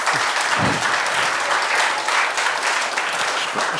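An audience applauds steadily and loudly throughout at a televised Bern cantonal election debate, a dense continuous clatter of many hands clapping.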